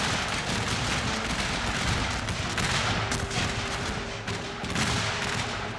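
Artillery and massed rifle fire in a Civil War battle game at First Manassas roar as a dense, loud, continuous barrage of booms and crackling volleys, with a few sharper cannon reports standing out.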